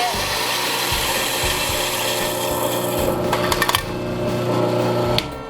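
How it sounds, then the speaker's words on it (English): Coffee beans being ground fine for AeroPress in a shop grinder, a continuous close, gritty mechanical whir that shifts in texture near the end before cutting off. "I'm just going to go ahead and grind"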